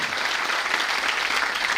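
An audience at a CHP political gathering claps steadily, a dense, even wash of applause throughout, fairly close and with no talking over it.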